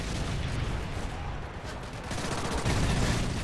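Dense gunfire from a Call of Duty Modern Warfare 3 match, a light machine gun trading fire with a submachine gun; continuous rattling bursts and booms fill the whole stretch, loud and chaotic, with no talk over it.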